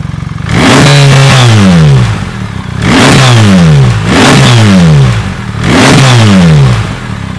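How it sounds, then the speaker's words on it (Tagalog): A BMW R 1300 GS motorcycle on its stock exhaust is revved hard four times in a row, each blip rising sharply and falling back toward idle, loud and close with no speech. "Pagkakas natin na maigay yung tunog ng stock. Bombahin natin ng malakas."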